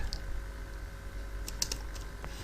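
Java code typed on a computer keyboard, a quiet run of light key clicks that gets denser toward the end, with no talking.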